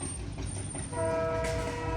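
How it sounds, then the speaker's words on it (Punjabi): A train crosses a level crossing on the new Ferozepur–Fazilka line a few kilometres from the border, a steady close rumble with a horn sounding midway and continuing to the end. "ਇੰਤਜ਼ਾਰ ਕਰਦੇ ਹੋਏ ਟ੍ਰੇਨ ਦੀ ਕਿ ਕਦੋਂ ਟ੍ਰੇਨ ਟੱਪੇ"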